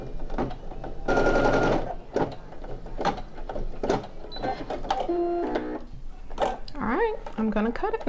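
A Brother SE1900 embroidery machine stitches a lion's mane in rapid mechanical bursts, whirring and clattering close by, with one dense loud run and shorter stop-start passages. Talk is heard intermittently over the machine.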